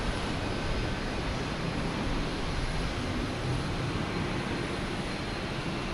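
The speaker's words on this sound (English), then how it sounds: "The A320 here, heading to Atlanta." A JetBlue Airbus A320 airliner at Boston Logan Airport gives a steady, continuous broadband engine roar that holds at an even level throughout, with no talking.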